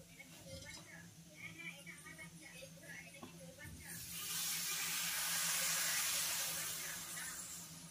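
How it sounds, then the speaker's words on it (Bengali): Water poured into a pan of sautéed vegetables gives a loud, sustained hissing sizzle that swells midway and then eases slightly, with kitchen clatter before it. "এবার জল দেবো।"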